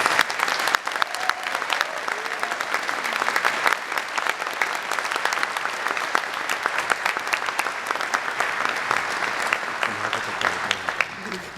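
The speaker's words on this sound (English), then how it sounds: "Everyone, please join me in a round of applause to recognize our" A large crowd gives dense, sustained applause for graduates at a University of Toronto graduation ceremony. Many hands clap loudly for over eleven seconds, with crisp individual claps cutting through the roar.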